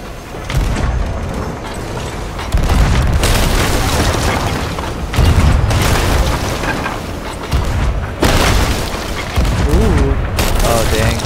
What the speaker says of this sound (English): they're getting ready to fire cannons at us.